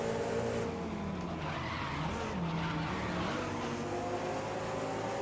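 Race car tyres skid and squeal under extremely late hard braking in GRID 2019, a continuous loud screech over steady engine roar, with no talking.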